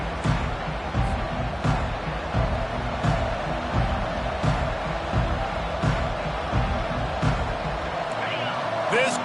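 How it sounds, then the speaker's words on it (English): A packed stadium crowd roars at an Alabama at Utah college football game, a loud, continuous wall of cheering with scattered thumps and claps, and a commentator speaks over it. "This crowd bringing an ear-splitting welcome to their visitors."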